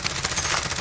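XM4 rifle firing in the shooter game Iron Trials '84, a short burst of rapid automatic shots, loud and close.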